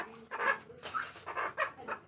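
A chicken clucks in a quick series of short, close, fairly loud calls, about six bursts in two seconds, with no talking.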